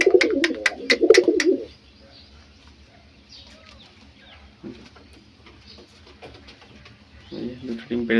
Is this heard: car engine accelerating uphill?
no